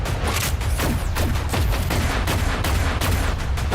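Sustained gunfire from the Rebel Moon 2 film trailer, rapid dense bursts of shots crackling continuously at loud level with no pauses.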